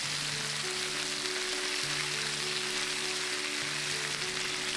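Chicken pieces frying with shallots and garlic in a pan over low heat give a steady, even sizzle, soft and continuous with no voices, and a faint hum runs underneath.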